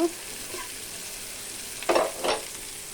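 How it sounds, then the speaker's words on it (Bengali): Onions fry in a pan right after fish has been fried, a steady soft sizzle running throughout with two louder stirring scrapes near the end; no one speaks. "আমি পেঁয়াজগুলিকে সুন্দর করে ভেজে নিব"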